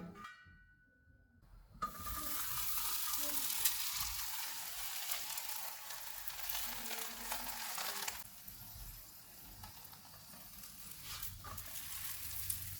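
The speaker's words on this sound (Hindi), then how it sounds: "तवे को मैंने गर्म होने के लिए रखा हुआ था। इसके ऊपर घी लगाएंगे।" Ghee sizzling on a hot tawa over a low-to-medium flame while mooli paratha cooks, a steady close frying hiss that starts abruptly after a quiet moment and continues with faint crackles.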